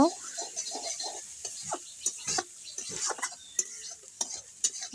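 Spices for a village-style egg curry are stirred in a pan with a metal utensil, giving repeated scraping and clinking strokes at close range, over a light sizzle.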